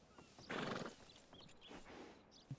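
A horse in Red Dead Redemption (RedM) gives a loud whinny up close, followed by softer snorts and a quick hoof clop at the end.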